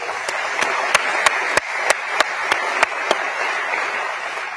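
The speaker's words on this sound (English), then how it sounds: "How about a round of applause?" An audience claps for a mayor and his wife at a Macon, Georgia state of the community address. Continuous applause runs throughout, with sharper individual claps standing out at a fairly regular pace.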